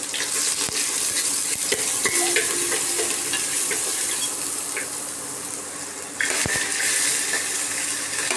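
Onion, capsicum and ginger-chilli paste fry in hot oil for homemade Manchurian, giving a steady close sizzle broken by scattered utensil clicks and a brief dip before the hiss swells again; no talking.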